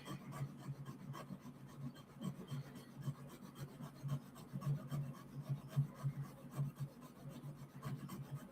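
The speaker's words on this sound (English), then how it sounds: "this is a Shishiai body that I'm currently sharpening, safety edge chisel" A Shishiai safety edge chisel for metal engraving being sharpened, a steady rhythmic scraping and rasping of steel drawn back and forth over an abrasive surface, close but fairly quiet and unaccompanied by speech.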